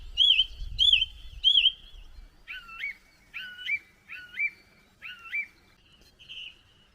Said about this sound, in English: The bird in the background making me laugh.